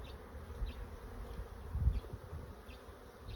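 Honey bees buzz around an open new beehive during a spring inspection, a soft, low, continuous hum with a few louder passes of individual bees close by.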